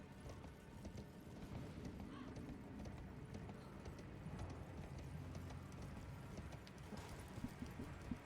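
Horse hooves clip-clopping in the Elden Ring video game, a quiet, steady trotting rhythm running throughout with faint mechanical game sounds and no talk.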